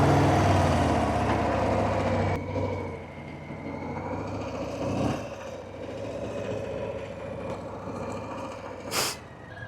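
A brand new 2026 Harley-Davidson Street Bob motorcycle engine idles close by with a steady low rumble, a few faint revs and a brief sharp sound near the end, with no talking.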